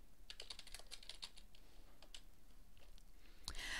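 Close, quiet keystrokes on a computer keyboard while formatting a paper in Word 2010, a quick burst of taps, a few scattered presses including return and tab, then a louder final key hit.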